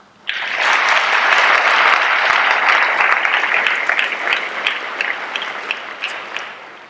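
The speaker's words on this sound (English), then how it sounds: "Could we have one more round of applause for both Paul and Joe?" A crowd at a 2016 veterans ceremony applauds Paul and Joe: dense, loud clapping bursts in abruptly, holds steady, then thins into scattered individual claps near the end.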